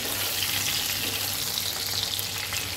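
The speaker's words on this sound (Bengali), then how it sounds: "তো পটলটা ভাজা হোক" Pointed gourd, lightly salted, fries in hot oil with a steady, dense sizzle that holds evenly throughout, close and alone with no talking.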